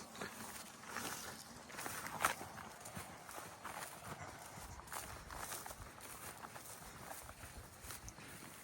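A pig's hooves clop and shuffle on the ground in an irregular walking rhythm, faint and nearby, with no talking.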